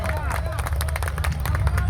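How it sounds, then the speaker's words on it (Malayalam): An audience at a Kerala village comedy show claps for Kalabhavan Mani, dense rapid clapping with crowd murmur and voices talking over it throughout. "ആ കൈയടിക്ക് ശക്തി പോലെ നല്ല നിറഞ്ഞൊരു കൈയടി തരണം"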